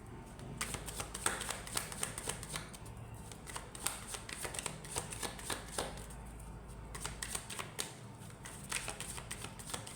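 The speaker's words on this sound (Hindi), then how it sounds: "तो जब तक मैं शफल कर रही हूँ आप अपने मन को बिल्कुल शांत कर लीजिए" Tarot cards are shuffled continuously by hand, giving soft, rapid riffling and flicking close up with no talking.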